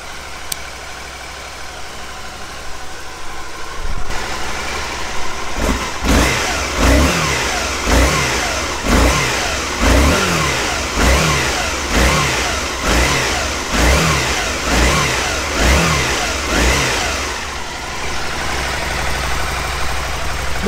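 A stock Aprilia Caponord 1000 ETV motorcycle catches after a few seconds of near silence and settles into a lumpy, tractor-like idle, with regular throbbing pulses about once a second, steady and close.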